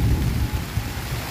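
Steady rain falls on a garden where chili peppers are grown, a dense broadband wash with low rumbling underneath, continuous and fairly loud with no voices.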